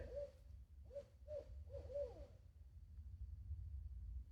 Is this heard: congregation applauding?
no